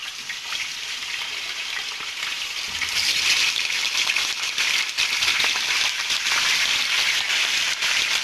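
Chicken pieces drop into hot tempering oil in a pan for spicy khara masala chicken, and a steady bright sizzle swells louder about a third of the way through, then holds, close and without any talk.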